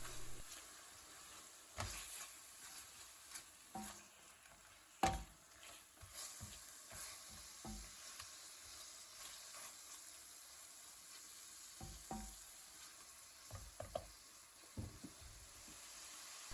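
Chicken pieces fry in a pan for a spicy garlic chilli curry while being stirred. A soft, low sizzle runs throughout, broken by scattered scraping clicks and knocks of the spoon against the pan.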